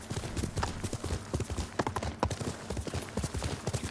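Steady, close clip-clop of horse hooves from Ghost of Tsushima, a rapid continuous rhythm of hoofbeats with no talking over it.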